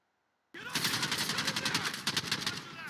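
Rapid automatic gunfire bursts out suddenly after a half-second of silence and rattles on for more than two seconds at close range, a steady stream of shots in the Call of Duty Modern Warfare video game.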